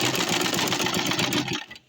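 A sewing machine stitches an Ankara cotton tote bag in a steady, fast whirring run heard up close, stopping abruptly near the end.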